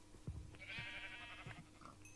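Sheep in a Minecraft-style survival game give a bleat lasting about a second over low background game noise. A few soft thumps sound around it.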